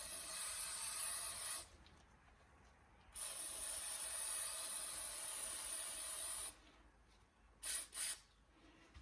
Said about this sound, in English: We're going to do that by spraying both sides with the uni foam oil.